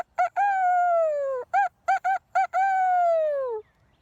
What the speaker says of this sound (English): Petook threw back his head, and he crowed, and crowed,